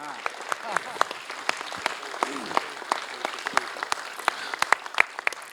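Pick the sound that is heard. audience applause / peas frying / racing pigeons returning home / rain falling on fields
audience applause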